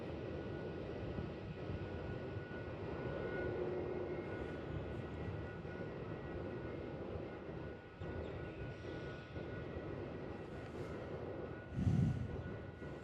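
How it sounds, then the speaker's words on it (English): A BAe 146, a small four-engine freighter aircraft, lines up on runway 16 at Melbourne Airport. Its engines give a steady mid-distance whine and rumble throughout, and a short louder burst comes near the end. "A little 4-engine 146. Primarily used as freighter aircraft here in Australia."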